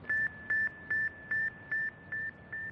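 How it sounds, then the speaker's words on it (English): Seven evenly spaced electronic beeps from the Soviet Sputnik satellite, a thin steady cricket-like chirping tone repeating about twice a second over faint static. "I could hear this little chirping sound, more like a cricket chirping"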